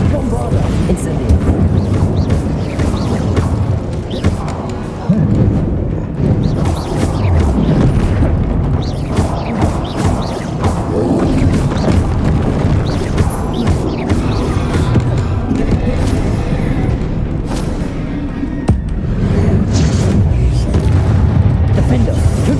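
Spell blasts such as Confringo and Bombarda go off in Hogwarts Legacy gameplay: repeated deep booms and bursts in a busy, loud stream of combat noise, with a voice calling out spell names over it.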